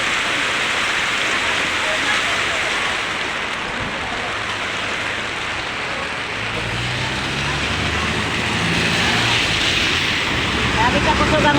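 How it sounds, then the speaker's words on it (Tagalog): Heavy rain pours in the late afternoon, a dense, unbroken roar of falling water that holds at an even loudness throughout, with a faint low rumble underneath. "Grabe ang ulan."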